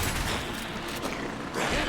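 Gunfire in the Alan Wake video game rattles out as a dense, continuous burst of shots mixed with mechanical clatter, loud and close throughout.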